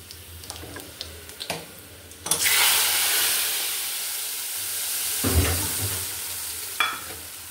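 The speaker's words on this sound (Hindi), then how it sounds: "कड़ी को तड़का लगने लगा प्याज और जीरे का" Onion and cumin tempering for kadhi sizzles in hot oil, a hissing crackle that swells and fades, with a few clinks and stirring knocks of a spoon against the pan.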